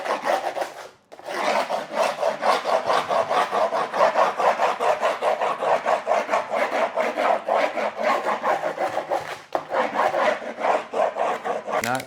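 A metal screwdriver scraping back and forth along the edge of skateboard grip tape, rapid rasping strokes repeated continuously, close and fairly loud, with a brief pause near the start.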